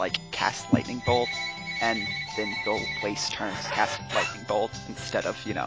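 A telephone rings steadily in the background while people keep talking over it for several seconds.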